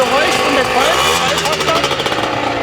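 A loud, buzzy two-stroke Zündapp ZXM 50cc motorcycle engine runs close by, its rattling putter steady and raspy, with voices talking over it.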